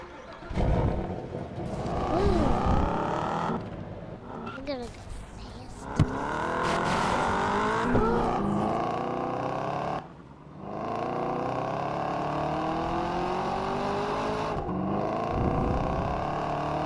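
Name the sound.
car driving fast in Roblox video game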